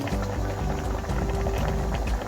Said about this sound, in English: I'm going to stir it